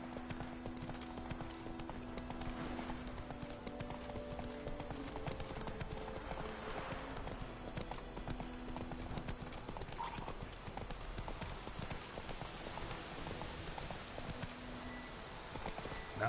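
Steady clip-clop of Roach's hooves in The Witcher 3, a game horse trotting at an even rhythm for the whole stretch, close and clear over ambient game sound, with a brief whinny-like note and faint voice at moments.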